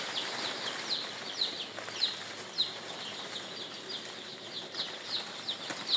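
Three-day-old chicks cheep at night, a steady stream of high, thin peeps repeating rapidly and overlapping, moderately near with faint background noise and no talk.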